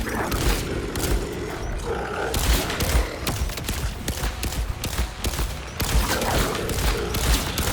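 Dense, rapid weapon fire from a pistol in the video game Borderlands 4, loud and continuous with sharp repeated cracks layered over booming game effects and a low rumbling roar throughout.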